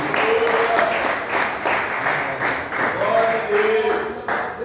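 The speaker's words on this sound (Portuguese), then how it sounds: "nós vamos recebê-lo com palmas bem alegre e exalta o nome do Senhor Jesus" Church congregation applauding warmly, sustained dense clapping with rhythmic beats and voices calling out over it throughout.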